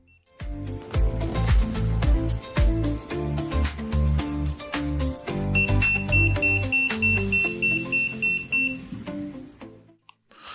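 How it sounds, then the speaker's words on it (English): A series of electronic beeps and tones from a KinHank K9 TV box remote during pairing, with a long steady high beep joining partway through before everything stops. "the remote starts beeping"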